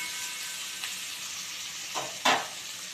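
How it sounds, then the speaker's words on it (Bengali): Sliced potatoes frying in oil in a pan for an aloo posto, a soft steady sizzle with a couple of sharper crackling bursts near the end, heard alone. "আলুটা আমার হালকা ভাজা হয়ে গেছে"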